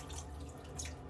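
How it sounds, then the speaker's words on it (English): Hot water runs steadily from a tap into a sink to warm a single-edge razor, a close, continuous hissing splash with small drips and gurgles and no talking. "I'm gonna warm it in the hot water here for a little bit."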